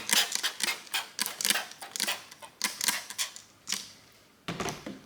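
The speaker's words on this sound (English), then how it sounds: "So once again, spray it back down." A series of short, sharp hissing bursts from a spray bottle onto a Honda Civic taillight, fired in quick irregular succession close by, with a brief pause before a final few sprays.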